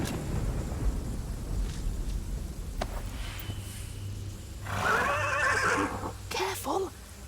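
A horse in the fantasy role-playing game Pillars of Eternity gives a loud, close whinny near the end, following quieter stretches of ambient game background noise and faint rustling.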